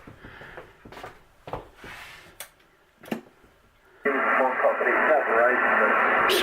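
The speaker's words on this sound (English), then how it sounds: "You can hear that hum. And I narrowed it down to the inverter." A ham radio receiver at an off-grid house, with a loud, constant buzzing hum from inverter interference that switches on abruptly partway through after some knocks and clicks, with faint speech mixed into the noise.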